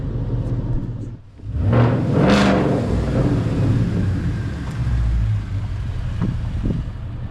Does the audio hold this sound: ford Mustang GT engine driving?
yes